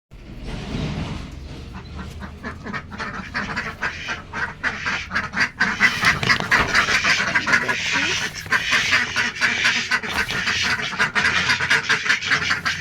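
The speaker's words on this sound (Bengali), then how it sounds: "এই দেখো কত হাঁস হচ্ছে আমার বাড়িতে" Domestic ducks at a village home quack continuously in a busy flock, with many overlapping harsh calls close by that build in density and stay loud throughout.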